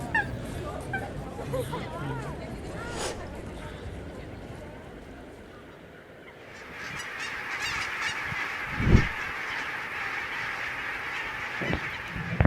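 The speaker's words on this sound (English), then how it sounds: "So we're going to go feed the swans today." Swans honking at a wetland reserve, repeated nasal calls near and far amid a background of birds, with a louder honk later on; a person talks in the first half.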